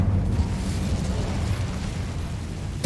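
A continuous roaring fire blast from the Incendio spell in a Hogwarts video game, loud and sustained with deep rumbling low end for about three seconds, no speech.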